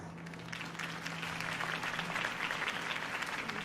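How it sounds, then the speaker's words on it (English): A crowd applauds steadily, a dense wash of clapping heard from a slight distance, with a faint low hum underneath. "could have heard that applause"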